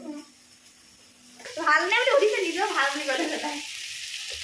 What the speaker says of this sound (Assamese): পিঁয়াজ দিছোঁ, কেপচিকাম, বিনছ আৰু গাজৰ, আলু এটুকুৰা দি দিছোঁ। সেইখিনি ধুনীয়াকৈ ভাজি ল'ম।